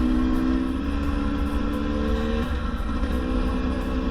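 A 2022 GasGas EC 300 two-stroke enduro motorcycle engine running steadily at a fairly constant pitch, a loud, close, continuous buzzing drone with no talking.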